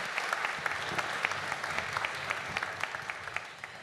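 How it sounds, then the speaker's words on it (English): A conference audience at an energy and environment policy event gives a round of applause, a dense, even patter of many hands clapping at moderate distance, steady and fairly quiet with no voices over it. "Can we have a big round of applause, please, for György?"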